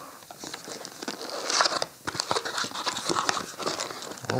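Wireless microphone packaging is cut open and pulled apart, giving close, crinkly rustling and tearing of plastic and cardboard in irregular bursts.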